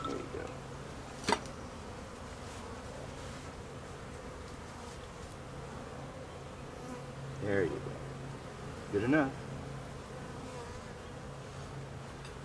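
Honeybees buzz during a hive installation at a small farm, a soft continuous hum under scattered quiet talk, with a few louder close passes of single bees.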